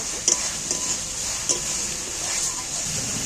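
Spice paste (masala) cooks in a pan for an egg and prawn curry while a spoon stirs it, a close low sizzle with a few light metallic scrapes and taps.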